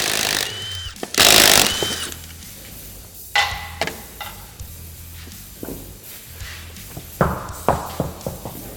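A power tool removes the wheel and tire from a Polaris RZR PRO R in a workshop, firing in short sharp bursts separated by pauses, with clinks and handling knocks between them, fairly close.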